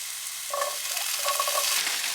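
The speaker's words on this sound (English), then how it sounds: "The veggies are in here still cooking." Vegetables sizzle steadily in a pot inside a van during snowy, rainy weather, a close continuous hiss with a couple of faint tonal squeaks.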